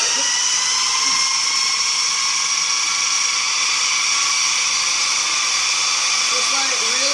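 An electric food processor grinds pesto sauce, its motor holding a loud, steady, high whine from start to finish, close by and with no pause.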